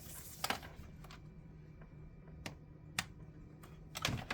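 Keys clicking on an ASUS TUF Gaming A15 FA506N laptop's backlit tactile keyboard, a handful of separate sharp taps spaced irregularly across a few seconds, close and fairly quiet over a low steady hum.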